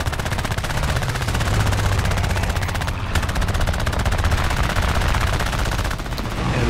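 Rapid aircraft machine-gun fire from a Fury Mk II fighter in War Thunder air arcade combat, a dense continuous rattle of gunfire with a brief pause near the middle, loud and close over engine drone.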